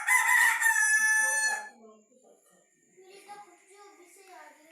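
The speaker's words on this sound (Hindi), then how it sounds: "और ये मुर्गा चीखे मार रहा है" A loud, close rooster crow rings out for over a second during rain, followed by quieter background noise and faint voices.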